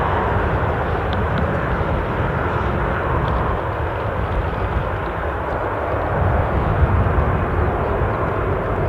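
A Ryanair airliner pushes back at Newcastle International airport, a steady broadband rumble of jet engines and apron noise holding at a constant, fairly loud level throughout, with no talk.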